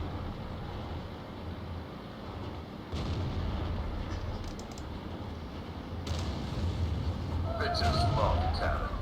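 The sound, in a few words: tank cannon firing in video game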